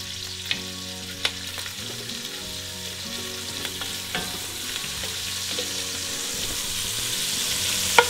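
Pancetta frying in oil in a pan gives a steady, close sizzle and crackle throughout, with occasional sharp clicks and taps from stirring against the pan.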